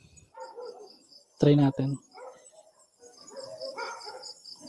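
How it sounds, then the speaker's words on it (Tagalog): A dog barks a few times in a burst, loud and close, with people talking quietly around it and insects chirping steadily in the background. "Maingay kasi mga aso, guys, eh."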